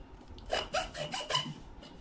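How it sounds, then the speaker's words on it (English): A hacksaw cuts through the steel leg of a cot bed in about five short, rasping strokes of uneven strength, heard close up. "So by hacksaw I will get a very smooth finish"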